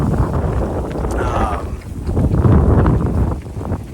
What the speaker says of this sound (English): it gets windy again. Windy day today.